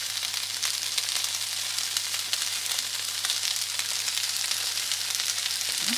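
Vegan meat-free bacon rashers fry in a pan with a steady, close hiss and crackle of sizzling oil that runs evenly throughout, with no talking.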